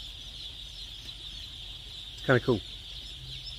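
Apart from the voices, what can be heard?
thousands of chickens chirping in chicken house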